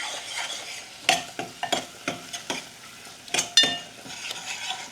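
Potato and tomato being stirred in a frying pan, a soft sizzle broken by a series of close, uneven spoon scrapes and taps against the metal, with no voices.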